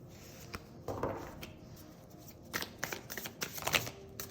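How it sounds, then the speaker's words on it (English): Tarot cards shuffled by hand in a quiet room, giving soft papery riffles and flicks in uneven bursts that build toward a busier flurry near the end, with no talking. "Do another shuffle."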